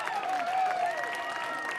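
Home crowd at a minor-league baseball game between the Great Falls Voyagers and Grand Junction, applauding in a steady, moderately loud wash of clapping with a faint whistle-like tone over it.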